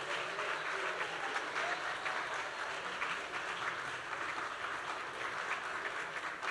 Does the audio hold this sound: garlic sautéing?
no